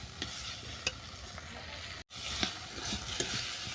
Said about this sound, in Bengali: দিলাম সরষে বাটা। আবারও আমি অল্প করে কষে নেব।